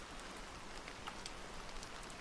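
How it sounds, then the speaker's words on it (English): Soft, steady rain ambience from the game FlowScape, a quiet even hiss of falling drops with a few faint patters and no voices. "What I had going on earlier was this rain effect."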